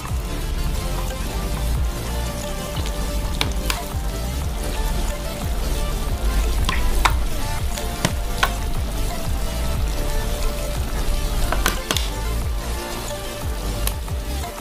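A big batch of Javanese fried noodles with cabbage and oyster sauce stir-fries in a wok, giving a steady, loud sizzle with scattered scrapes and clacks from the stirring utensil throughout.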